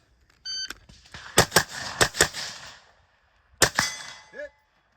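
Gunshots striking steel targets at a shooting match, a quick string of sharp ringing cracks in two bursts, the second pair after a short pause, fairly close and clear with quiet gaps between.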